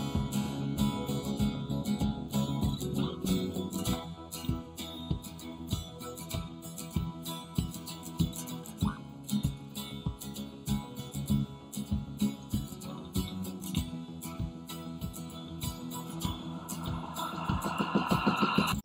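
A produced song mix layers a pulsing synth arpeggio, a synth pedaling a held E and a high string part, playing steadily and rhythmically on its own, swelling toward the end.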